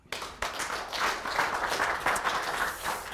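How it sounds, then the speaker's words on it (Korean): Audience applause at a Korean business lecture on change and innovation, a dense wash of many hands clapping that starts abruptly and holds steady and fairly loud throughout. "박수 한번 더 쳐."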